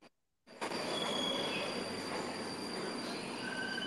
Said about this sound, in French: Le métro moscovite est une espèce de palais du transport en commun.